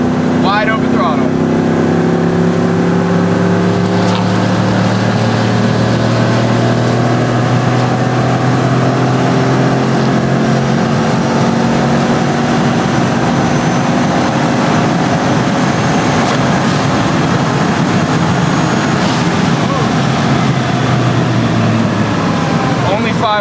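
A supercharged truck engine at wide open throttle accelerating in second gear, its loud steady roar and rising supercharger whine filling the whole stretch, with tones climbing as speed builds.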